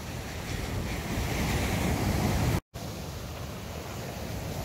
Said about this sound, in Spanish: Y el mar suena delicioso.